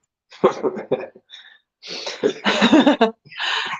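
A person coughs several times in quick, harsh bursts close to the microphone, with short gaps and a raspy throat-clearing quality, mixed with some vocal noise.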